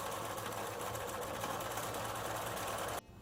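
Sewing machine running a seam on fabric for a girl's dress, a fast continuous whirring stitch close by that stops abruptly near the end.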